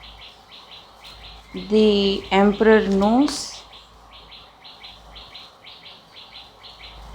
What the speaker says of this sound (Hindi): इफ़ यू आर वंडरिंग, ये चिड़ियों की आवाज़ है